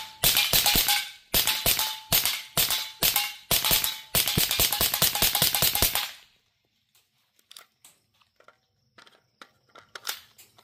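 A suppressed B&T SPC 9mm short-barreled rifle fires in quick bursts, with dozens of sharp, close shots packed into about six seconds, followed by faint clicks and handling noises.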